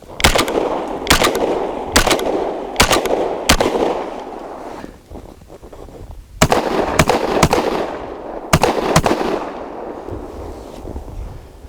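Panzer Arms M4 semi-automatic shotgun firing outdoors: sharp, loud blasts, a quick string of five, a pause, then two more groups of shots, each with a short echoing tail and no talking.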